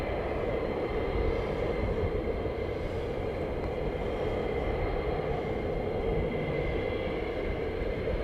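Eurofighter Typhoon fighter jet passing overhead, a loud, steady, broad roar that holds at full strength throughout with no break and no voices.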